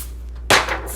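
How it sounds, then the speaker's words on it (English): A short burst of Pam cooking spray hisses onto a pan for stuffed zucchini boats, a single close spray lasting about half a second with a sharp onset over a quiet kitchen background. "Spray that with some good old"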